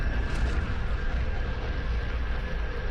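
A mycelial weapon detonating in the Star Trek Online space game, a dense, sustained roar of rumbling blasts and crackling debris filling the whole stretch at steady loudness, with no talk over it.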